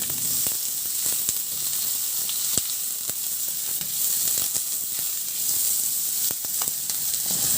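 Garlic sautéing in a pan for a squash (kalabasa) dish, a steady bright sizzle with scattered clicks of a utensil stirring and scraping, close and continuous with no talking.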